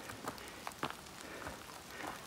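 Light rain falls on the Appalachian Trail, a soft, quiet patter with scattered individual drops ticking close by over a faint hiss, no voices.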